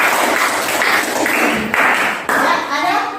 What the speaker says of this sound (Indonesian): tepuk tangan buat teman saya dulu.